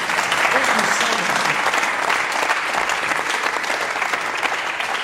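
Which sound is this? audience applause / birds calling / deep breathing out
audience applause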